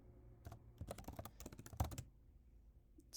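Rapid clacking of keys on a computer keyboard, close and fairly loud, in quick irregular bursts that fall quiet near the end.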